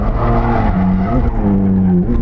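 A modified Nissan R32 being driven hard on a Gymkhana track day course, its engine note rising and falling steadily and loudly, with drawn-out tonal squeals that could be skidding tyres, and no voices.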